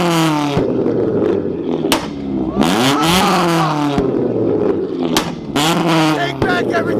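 Very loud car with no exhaust revving hard at a rowdy pre-meet car gathering, bursts of rising and falling engine roar repeating several times, close by, with crowd noise mixed in.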